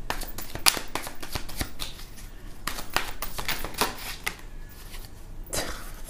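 Tarot cards being shuffled by hand: a quick run of crisp riffling clicks and snaps, some bursts sharper than others, close and alone with no talking.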